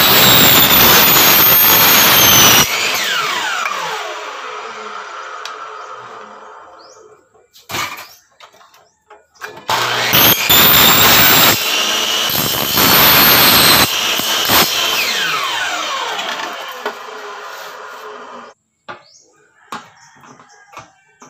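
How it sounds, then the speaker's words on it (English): A miter saw cuts an aluminum Alco crossbar: two loud bursts of harsh, screeching blade noise, each winding down in a falling whine, separated by brief quiet. "ikakat na natin ito using our miter saw"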